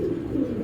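A racing pigeon coos softly and continuously at close range, a low, steady burble with no other sounds.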